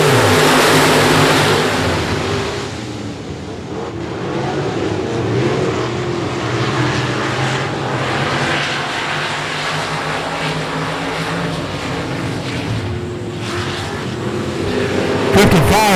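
Sport mod race cars pull away to start a heat race at I-37 Speedway, a loud pack of engines droning and revving together while a voice talks over them.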